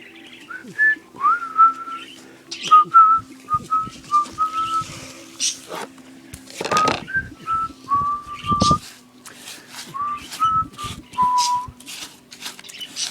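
Parakeets whistle in short warbling phrases over nearly steady chirps and scratchy rustles, with a low hum underneath.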